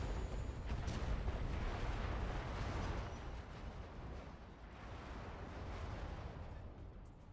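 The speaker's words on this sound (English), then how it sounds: "We'll yeet some missiles over the top at it." Missiles fired at a Centurion mech in a video game, a dense roaring rumble of launches and blasts that is loudest early and then settles into a sustained heavy wash.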